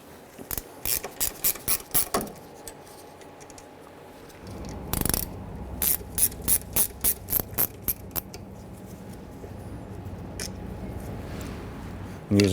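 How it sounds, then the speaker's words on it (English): A gear wrench ratcheting loose the 14mm slide pin bolts on a rear brake caliper of a 1994-2004 Ford Mustang, giving quick runs of close metallic clicks in bursts with brief pauses between strokes. "We're going to use our gear wrench."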